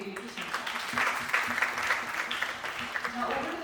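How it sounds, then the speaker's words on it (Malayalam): An audience claps to welcome Dr. Bilu C Narayanan to the stage at a Kathaneram storytelling event. The applause is a dense, moderately loud patter lasting several seconds, with voices talking over it. "ഒരു വലിയ കൈയടി കൊടുത്ത് നമുക്ക് ഡോക്ടർ ബിലുവിനെ വേദിയിലേക്ക് ക്ഷണിക്കാം"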